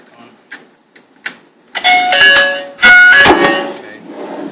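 A Safehom smart peephole doorbell fitted on a door is pressed, giving loud electronic chimes in two bursts after a few soft clicks and taps, close and clear.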